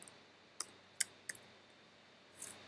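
Computer keys tapped while writing Swift code in Xcode, a few sparse, crisp clicks spaced apart and fairly close, followed by a brief soft rustle at the end in an otherwise quiet room.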